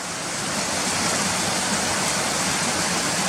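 Small waterfall pouring out from underneath a road, a steady broadband rush of falling water that stays constant and fairly close throughout, with no voices.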